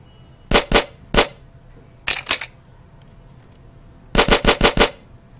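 Gunshot sound effects from a shooter game made in Scratch crack out in quick bursts: a double shot, a single, a short triple, then a rapid run of five, sharp and loud against near silence.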